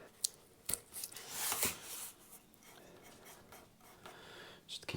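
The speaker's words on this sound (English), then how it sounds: "I'm just going to run a length of masking tape just along that binding." Masking tape pulled off a roll and pressed along the binding of a guitar, giving crackly peeling rasps and rubbing strokes that come close and alone, with a louder stretch of tearing in the middle.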